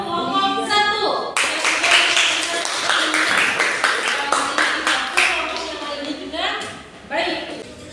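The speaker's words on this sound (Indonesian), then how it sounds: "Kemudian tepuk tangan untuk kelompok 1." Classroom clapping for a student group after its presentation, a short burst of hands lasting several seconds, with voices talking over and around it before it fades.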